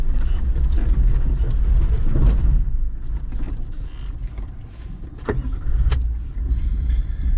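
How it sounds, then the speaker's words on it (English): A manual-transmission car driving slowly over a steep hump on a track in Woomargama National Park, with a low engine drone, rumbling and a few sharp mechanical knocks and creaks from the car. "Me driving a manual, not giving it enough juice."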